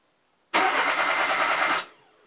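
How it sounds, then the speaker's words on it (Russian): A car's engine is cranked while a homemade anti-theft cutoff blocks it from starting: one loud, close burst of starter whirring lasts just over a second and then stops abruptly without the engine catching. "Теперь пробую завести автомобиль"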